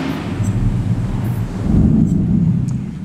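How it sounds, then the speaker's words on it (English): A theater organ's thunder sound effect at the Fabulous Fox Theatre in St. Louis, a loud, deep rolling rumble that swells and sustains for a few seconds without talk. "if you have a storm, we even have thunder"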